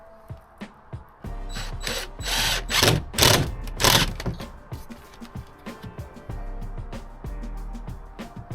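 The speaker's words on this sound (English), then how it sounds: "I think I'm just going to stop faffing about and get some screws up in it" A power drill drives screws into the roof of a Transit camper van conversion in short whirring bursts, one longer run in the middle, alongside small clicks and handling knocks close by.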